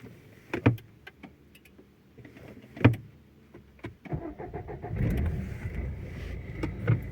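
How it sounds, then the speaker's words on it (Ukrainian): Renault Megane 3 car starting up, with a few sharp clicks and clunks, then the cranking and catch of the engine settling into a low, rumbling idle, close and moderately quiet. "При першому заведенні автомобіля"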